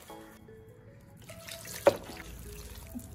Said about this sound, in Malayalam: ആവശ്യത്തിന് വെള്ളം ഒഴിച്ച് കൊടുക്കണം.